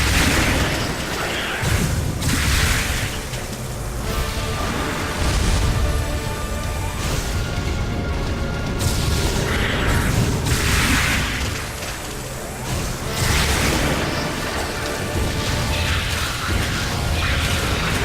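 Charged missiles exploding in the video game Metroid Other M, repeated booming blasts with whooshing bursts and mechanical clanks, loud and continuous through a busy stretch of game action.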